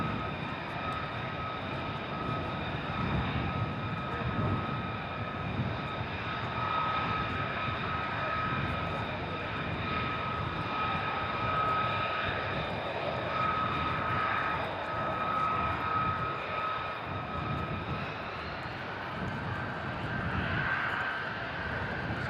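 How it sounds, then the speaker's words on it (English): F-35 fighter jets taxi on the airfield at RAF Lakenheath, a distant, sustained engine whine and rumble with steady high tones persisting over a wide airy background. "Sounds like the F-35s are moving again now."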